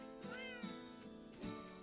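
A cat in the video game Astroneer on Switch gives two short, clear meows in quick succession, soft and close, with no talk over them.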